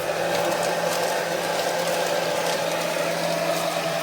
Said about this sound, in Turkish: Yine süpürgemizi aldık çalıştırıyoruz.